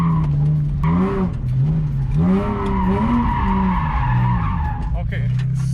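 A BMW E36 drift car does donuts on a track, its engine wailing up and down in a steady cycle under continuous tire squeal and skidding, loud and close.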